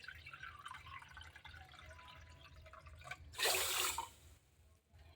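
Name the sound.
water poured from a bowl for sugar syrup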